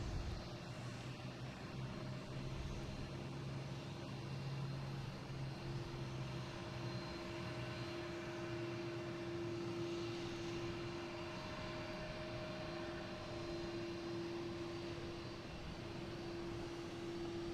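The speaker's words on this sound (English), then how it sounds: "American E-175 coming in from Louisville" An American Embraer E-175 jet arrives from Louisville at Boston Logan, engine roar holding steady with a strong tonal whine that climbs in pitch, close and continuous with no voices.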